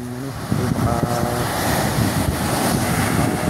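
Strong wind roars over waves on the open sea during a fishing trip, blasting the microphone with a loud, steady rush and low rumble that swells after a brief lull at the start, with no voices heard.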